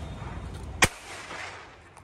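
One sharp, loud firecracker bang bursts over an open field, its report echoing and rolling away across the ground before a faint distant pop near the end.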